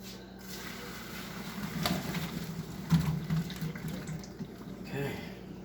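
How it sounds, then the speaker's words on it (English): Boiled potatoes drained on a kitchen stove, their cooking water pouring out in a soft, steady splash and gurgle that swells a little midway. "Let's drain the water."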